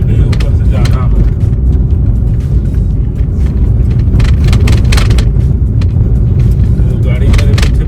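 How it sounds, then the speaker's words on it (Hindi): A car drives along the new Dwarka Expressway, with a loud, steady road and engine rumble throughout and a person talking over it. "अब गाड़ियां तो जा रही है, ये गाड़ी ऊपर से जा रही है"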